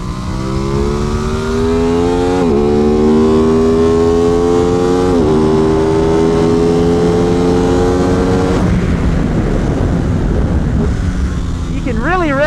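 An Aprilia RS660 motorcycle in stock trim revs hard on a track, loud rising engine pitch through several upshifts, close and continuous, ending in rougher, lower roar as it settles.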